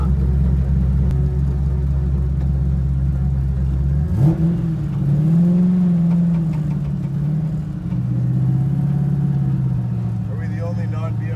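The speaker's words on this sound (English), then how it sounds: "the straight cut gears of that sequential transmission, which makes that great whine, especially up at the higher RPMs" A loud car with a straight-cut gear sequential transmission runs nearby, its engine droning and rising as the gears whine, while a person talks over it.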